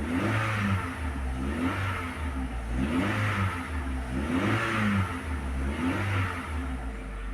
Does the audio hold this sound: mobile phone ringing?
no